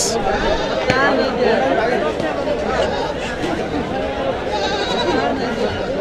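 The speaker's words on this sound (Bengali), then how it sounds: "এগুলো কিন্তু খাসি ছাগল" Castrated goats bleat at a busy livestock market in Aricha, their calls rising through constant crowd chatter and nearby talking, with a sharp knock early on.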